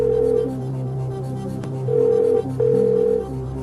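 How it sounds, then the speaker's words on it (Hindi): On a televised quiz game show, a computer places a phone call with clear, loud electronic tones and ringing pulses sounding alone, with a short pause between two rings. "मिस्टर कंप्यूटर, विनय गुप्ता को फोन लगाएं प्लीज."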